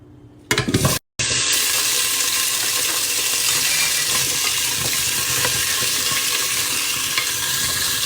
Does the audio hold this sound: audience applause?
no